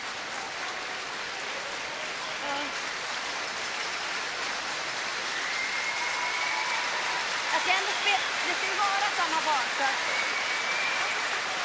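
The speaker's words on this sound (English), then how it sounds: "That's a warm round of applause for the Chinese and Korean players leaving the playing area." A curling arena crowd applauds as the Chinese and Korean players leave the ice at the Women's World Curling Championship, a steady wash of clapping that builds slightly, while commentators speak over it.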